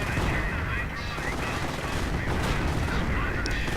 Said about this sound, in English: Riflemen desperately trying to hold the line, but just taking too much fire as the Panzer Force hunt them down.